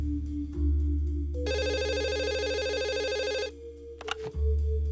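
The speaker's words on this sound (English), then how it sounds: "I should probably pick up that phone." An electronic telephone ringtone rings in an office in a point-and-click adventure game, one long repeating burst over a steady low background drone, followed by a short click as the call is answered.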